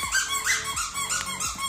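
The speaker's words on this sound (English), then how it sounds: "it says squeeze me. I squeak. There we go. There's the squeaker." A squeaky dog toy squeals loudly and repeatedly up close, each squeeze rising and falling in pitch in a quick, continuous run.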